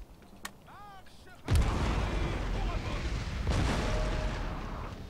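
Artillery fire in the Napoleon Total War video game booms heavily and rumbles on for several seconds after an earlier faint crack, with a second rolling swell of cannon fire partway through.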